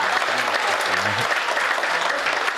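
Applause from an audience for a girl at a Hindu gathering, dense sustained clapping from a crowd, loud and even for the whole stretch, with a voice faintly underneath.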